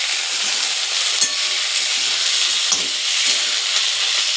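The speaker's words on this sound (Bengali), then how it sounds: "লাল শাকগুলো দিয়ে নাড়াচাড়া করে নিচ্ছি" Red amaranth greens fry in a pan after peanuts, a loud, dense, continuous hiss of frying with faint stirring movements underneath, close up and without talk.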